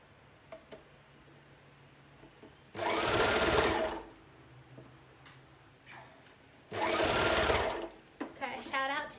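A home sewing machine stitches a scrunchie in two fast bursts of rapid, steady needle chatter, close by, separated by quieter handling sounds and light ticking.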